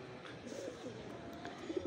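Pigeons coo softly in the distance, a few low throaty calls near the end over a quiet background hum.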